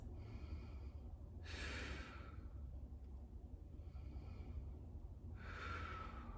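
Two slow, deep breaths during a stretching exercise, each a soft, airy exhale whooshing out close to the microphone, separated by quiet pauses over a low background hum.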